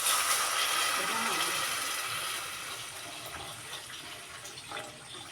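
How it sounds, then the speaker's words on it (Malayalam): Water poured into fried spice powder in a pan for a Kerala fish curry makes a steady splashing pour that tapers off gradually, close and fairly loud, with no talking. "നമുക്കിതിലേക്ക് വെള്ളം ഒഴിച്ച് കൊടുക്കാം"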